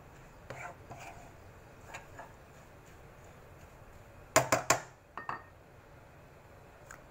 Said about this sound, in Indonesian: Aduk-aduk sebentar.